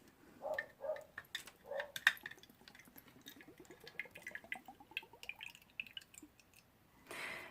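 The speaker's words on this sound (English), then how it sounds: "So I'm going to go ahead and pour the water in and see" Water poured from a small container into the built-in water well of a Winsor & Newton Professional Watercolor Field Set, a soft trickle with rising gurgling pitch as it fills, plus a few light clicks of the plastic case, faint and close.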